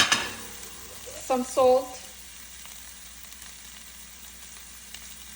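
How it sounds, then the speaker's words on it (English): Onion, ginger and green chili sauté in a hot pan with popped seeds for South Indian upma, a steady soft sizzle with light stirring scrapes; a person speaks briefly partway through. "add the onion, ginger, and green chili and saute them until they are soft"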